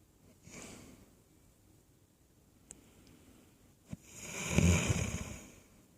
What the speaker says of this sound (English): I'm snoring